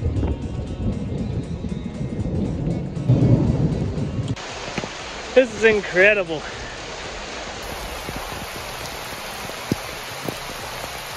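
Rain falls steadily while a voice speaks briefly, then rumbling thunder rolls in and the downpour continues alone.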